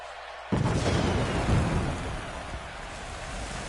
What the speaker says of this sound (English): Man, those fireworks are awesome.